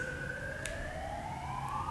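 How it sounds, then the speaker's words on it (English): A siren wails steadily with a rising pitch, heard at moderate distance over a low rumble of background noise. "sirens"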